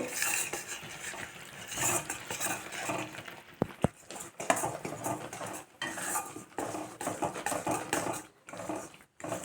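A spoon scrapes and clinks against a pot while powdered sago is stirred into sugar syrup, giving irregular metallic taps and scraping strokes over a soft simmer, close and moderately loud.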